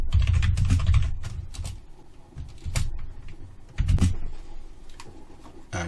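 Close computer keyboard typing, a flurry of clicky keystrokes in uneven bursts with short pauses, fairly loud over a low background rumble.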